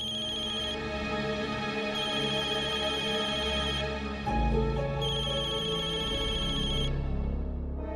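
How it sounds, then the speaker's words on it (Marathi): A telephone ringtone rings close and clear in a repeating melodic pattern for several seconds, with a brief shift in the middle, then stops abruptly near the end. "फोन उचल आधी"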